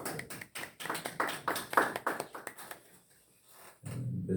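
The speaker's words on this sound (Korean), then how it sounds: "우리 한번 환영의 박수 한번 쳐주시기 바랍니다" A small group at a Korean church dawn prayer service claps in welcome for two members, a sparse run of distinct claps that fades out after a few seconds before a voice begins.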